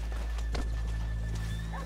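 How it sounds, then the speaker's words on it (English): Horses' hooves clip-clopping as they walk along a town street in the Red Dead Redemption 2 video game, with a brief snort or whinny, over a low steady ambient hum. "Let's leave the horses here off the main drag."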